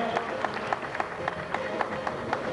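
An audience at a kickboxing championship ceremony applauds a Bulgarian champion with steady, fairly soft, rhythmic clapping spread across the crowd.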